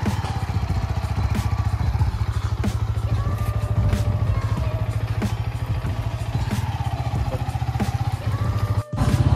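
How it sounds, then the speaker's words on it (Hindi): Sachin riding a motorcycle at a college sports day, heard as a close, rapidly pulsing engine putter that runs steadily throughout, with a few sharp clicks and a brief dropout near the end. "अब देखिए सचिन कैसे घुमाएगा बाइक"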